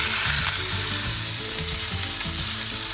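Roast beef sears in a hot pan, giving off a loud, steady sizzle and crackle that runs without a break.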